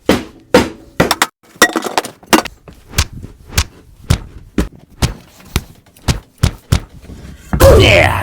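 Pieces of wood being beaten to distress them, a rapid series of sharp loud knocks and thunks, about twenty close blows in an uneven rhythm.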